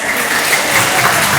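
An audience at a talk show in Sambas claps in a dense, steady burst of applause, close and fairly loud, with no talking over it.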